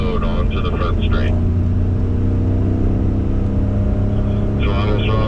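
A BMW F90 M5 on a racetrack pulls hard down the front straight with a loud, steady engine roar. A voice talks over it near the start and again near the end.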